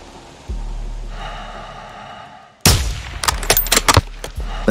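A sniper rifle fires once during the Call of Duty: Modern Warfare 2 campaign: a sudden loud crack that rings out with an echoing tail, followed by a few sharper mechanical clicks and thuds, close by after quiet ambient hum.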